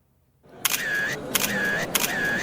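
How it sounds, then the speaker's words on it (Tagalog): Media cameras fire off a quick run of shutter clicks, three bursts of snapping with electronic beeps between them, fairly close and clear, with no speech. "Umaalingaw-ngaw rin ang tunog ng mga kamera ng media at mabilis na kumukuha ng mga larawan."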